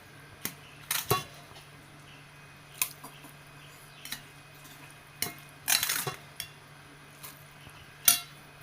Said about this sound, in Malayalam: ആ അട മുഴുവൻ ഇതിലേക്ക് കൊട്ടിയിട്ടുണ്ട്